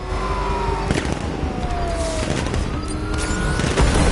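Gunfire rattles steadily through a Batman: Arkham Knight battle, loud and dense, with heavy impacts and vehicle noise mixed into a continuous barrage.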